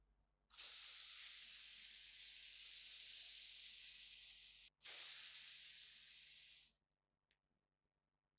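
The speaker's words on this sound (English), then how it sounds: "examine the laser by using this deodorant spray" A deodorant aerosol can sprays in a dark room in two long bursts, a steady loud hiss of about four seconds, a brief break, then two more seconds, with no talking.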